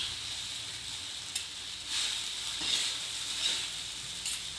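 Fried rice cooks in a pan with a steady, close, hissing sizzle that swells slightly a few times, with no voices.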